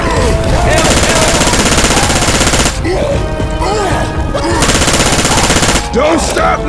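Sustained automatic gunfire pours into the Tank in Left 4 Dead 2, loud and continuous bursts of rapid shots with shouting voices breaking in over the barrage.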